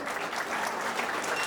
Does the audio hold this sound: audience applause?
yes